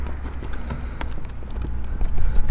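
A horse walking with its head held high, hooves clip-clopping in an uneven series of sharp knocks over a rumbling low background, moderately close, with no talk.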